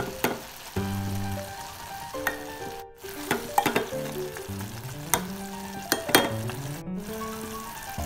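A Telangana-style cluster bean and tomato curry sizzles and bubbles in a pan while being stirred, with a steady frying hiss, repeated scraping and clinks of the spoon, close and without speech, over a faint tonal background.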